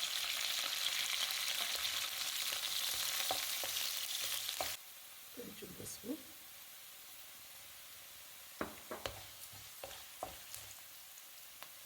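Onions and curry leaves crackle loudly in hot oil for a few seconds; after an abrupt drop, quieter scattered pops, clinks and stirring scrapes follow in a Telugu kitchen making okra and baby corn fry.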